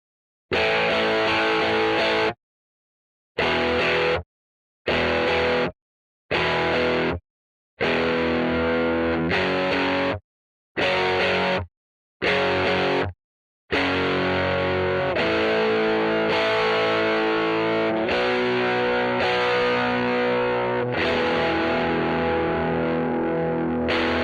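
Distorted electric guitar chords recorded with two hard-panned microphones, played loud and wide, starting with short stabs separated by silences, then settling into sustained strumming.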